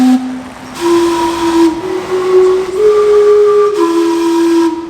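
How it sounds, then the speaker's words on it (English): Gastown's steam clock in Vancouver blows its steam whistle in a run of sustained, pitched tones that shift between notes over a constant background hiss, loud and close, with no voices. "every 15 minutes on the quarter hour, half hour, full hour, etc., it does this awesome steam show"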